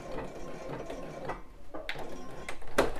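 A domestic sewing machine runs a locking stitch on a bra, a low mechanical whir with irregular clicks and ticks of the needle and feed, going back and forth at a moderate, close level.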